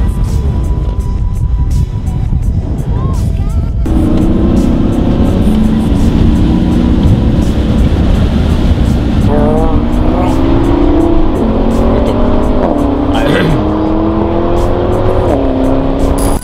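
Porsche 718 Boxster S sports car engine pulling hard and revving through rising gear sweeps, loud and close throughout with steady road and wind noise beneath.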